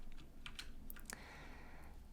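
Quiet typing on a computer keyboard while entering placeholder text in a code editor: a quick cluster of key clicks early on, then sparser, fainter taps over a soft background hum.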